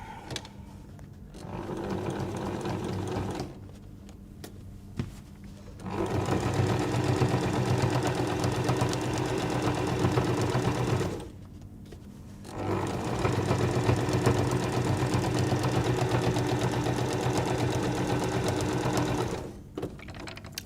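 A sewing machine stitches through about four layers of cotton and two layers of toweling for quilt binding, running in three long bursts separated by short pauses, close and steady with no talking.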